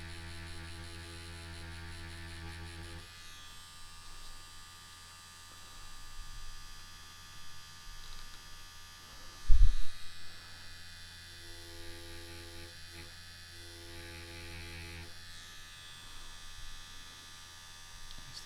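Wireless stroke-adjustable Bronc Tough tattoo pen hums steadily for the whole stretch, its pitch dipping briefly as the motor bogs under light load, with one short louder bump near the middle.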